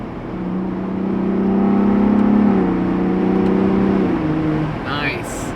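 A Ford Bronco Raptor engine with switchable sport exhaust revs up and holds a deep, throaty drone for a few seconds, then settles back down, loud and close.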